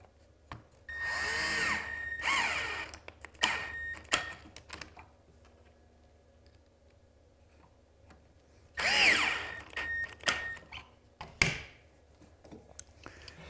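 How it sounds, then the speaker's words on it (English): Power drill pre-drilling into a wood face-frame component for a pocket-hole screw joint: two bursts of whining motor near the start and another around nine seconds, close and loud, separated by quiet handling clicks. "we pre-drill here into this component"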